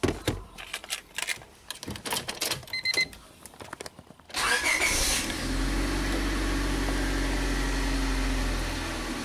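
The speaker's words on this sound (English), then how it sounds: "now we'll go ahead and start engine" A car engine cranks and catches at about four seconds, then settles into a steady, loud idle that runs to the end. Before the start there are intermittent clicks and taps, and no one speaks.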